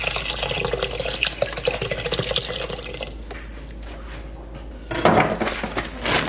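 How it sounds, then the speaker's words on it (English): Vegetable broth pours into a pot, a close liquid splash and trickle that thins out midway and then gushes again briefly near the end. "Then I'm going to add some vegetable broth."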